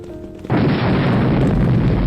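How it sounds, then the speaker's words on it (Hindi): A big, sudden explosion bursts in after a quiet half second, a loud deep roaring boom that stays heavy and sustained with rumbling low end, in a dramatic tomb-adventure scene. "इतना बड़ा धमाका, कहीं कुछ हो तो नहीं गया?"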